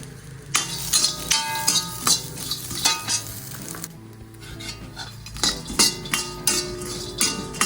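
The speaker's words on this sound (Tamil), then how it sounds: "தேங்காய் சில்லை போட்டு லேசாக சிவப்புற வரையும் தேங்காய் சில்லை வறுக்கணும்" Coconut slices frying in a pan for a Karthigai festival snack, with a busy sizzle under repeated metal spoon scrapes and clinks against the pan as they are stirred, close and fairly loud.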